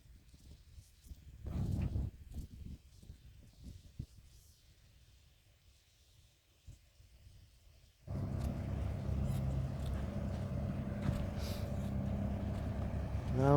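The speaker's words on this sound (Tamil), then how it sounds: "இந்த மாதிரி ஜேசிபி வேலை பார்க்குது. அது ஒரு அருமையான வேலையை பார்த்துட்டு இருக்கு." A JCB excavator working near a coconut tree, heard as a steady, loud diesel engine drone that starts abruptly about eight seconds in, after a quieter stretch of faint outdoor rumble and scattered knocks.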